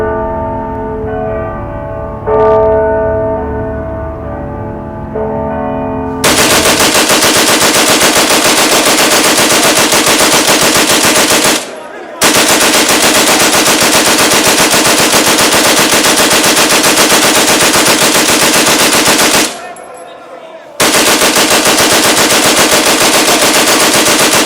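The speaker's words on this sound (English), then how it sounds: "They set up a Vickers machine gun." A Vickers machine gun fires from a church bell tower during the Easter Rising, very loud, long continuous bursts of rapid fire broken by two brief pauses, after a quieter opening stretch.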